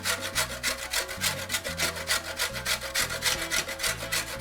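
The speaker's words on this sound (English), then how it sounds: "I'm actually going to grate it" Half a chocolate bar grated by hand for hot chocolate, a steady rhythmic scraping of roughly two strokes per second, close and clear with no talking.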